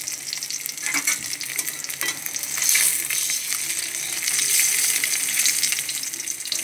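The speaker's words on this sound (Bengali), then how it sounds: "ডিমগুলো লাল লাল করে ভাজা হয়ে গেছে" Eggs frying in hot oil with a steady, bright sizzle, a utensil stirring and turning them now and then, close and moderately loud with no talk.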